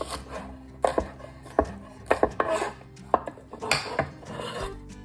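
A knife chops cilantro, celery leaves and shallot on a board, irregular sharp taps and scraping strokes at close range, with no talk.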